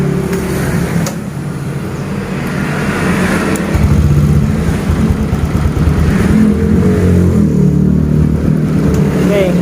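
Honda Vario 125 scooter engine bored up to 150cc, idling steadily and loud up close, then revving a little higher midway, with a slightly rough valve noise under the engine hum.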